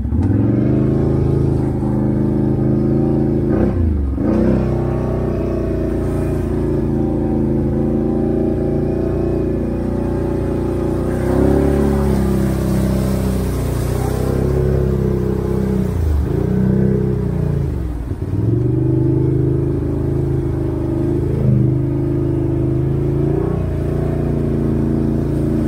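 A 2021 Can-Am Outlander 650 DPS ATV fitted with an SPI exhaust revs loud and close, its deep engine note surging and dropping repeatedly with several sharp throttle blips over a continuous rumble.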